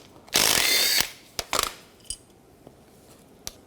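A 13mm socket ratchet working on the rear caliper bracket bolts of a 2004-2010 Toyota Sienna, a burst of rapid ratcheting clicks followed by several sharp metallic clinks and taps, close and without talk.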